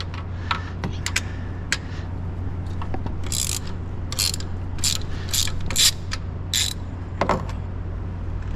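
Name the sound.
spark plug tool ratcheting on Ferrari F430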